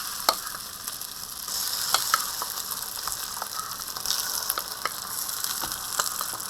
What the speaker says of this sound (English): It must sizzle.